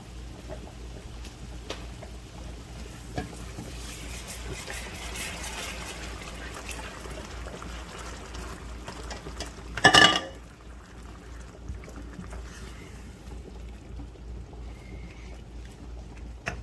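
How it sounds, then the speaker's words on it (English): Chicken stock poured into a pan of simmering garlic, a steady liquid pour and sizzle held under a low background hum, with one sharp clatter midway. "now we're finna add in our stock"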